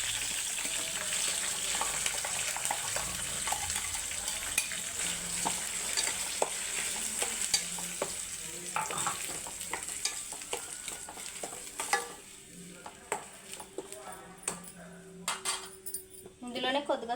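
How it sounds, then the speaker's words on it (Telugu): Onion and green chili paste frying in a pan for egg curry, a steady close sizzle with frequent spoon clinks and scrapes from stirring, growing sparser toward the end. "ఇప్పుడు ఇందులోనే ఆనియన్స్, పచ్చిమిర్చి పేస్ట్ కూడా వేసుకుందాం ఫ్రెండ్స్."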